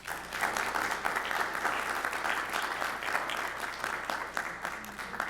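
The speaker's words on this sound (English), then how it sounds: "Another round of applause for Sandy." Steady applause from a seated audience at a senior citizens community conversation, dense even clapping that runs the whole way through at a constant level with no pauses.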